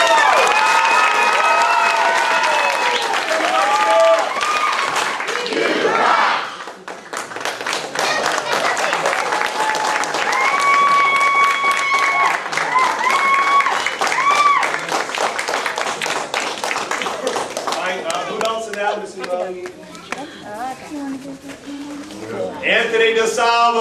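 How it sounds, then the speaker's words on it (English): Enthusiastic applause and cheering at a martial arts belt ceremony at Family Martial Arts Center of Mount Dora, with rhythmic clapping, shouts and whoops continuing for a long stretch, briefly dipping midway before resuming. "Give them another round of applause!"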